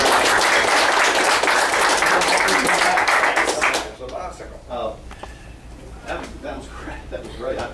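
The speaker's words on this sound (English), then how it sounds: "Let's give Tim a round of applause." Dense audience applause at a breakfast meeting for a guest, loud and sustained for about four seconds before stopping abruptly, followed by scattered murmurs and voices talking.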